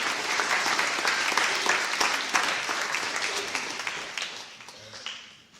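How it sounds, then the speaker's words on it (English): A church congregation claps in a steady round of applause that gradually fades out toward the end. "How about a nice, I don't know, round of applause for ourselves?"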